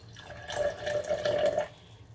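Hot water poured into a measuring cup, a short trickling stream that starts abruptly, runs for about a second with a rising gurgling tone, then stops, close up and quiet with no talking.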